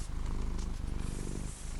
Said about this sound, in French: Vous pouvez ronronner si vous voulez.